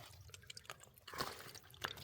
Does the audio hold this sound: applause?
no